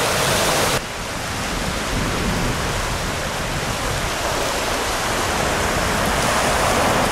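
Sea water washes onto rocks at Homer, Alaska, a continuous broadband rush of surf that is steady and fairly loud, after a brief quieter start.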